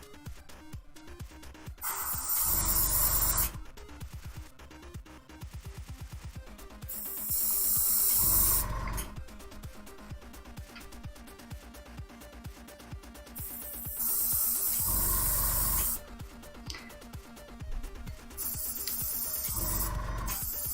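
An airbrush spraying Acryla gouache paint onto a Gingerbread Louie figure, with long steady hissing bursts that start and stop between quieter stretches.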